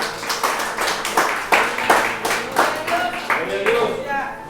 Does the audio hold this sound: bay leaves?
no